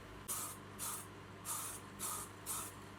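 Five short bursts of chrome spray paint from an aerosol can, each about half a second, with brief pauses between, close and fairly loud over a faint background hum.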